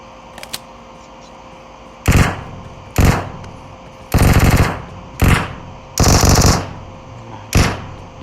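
Six short bursts of M16 rifle fire in a video game, each a loud, crisp rattle lasting about half a second, separated by brief pauses over a quiet background hum.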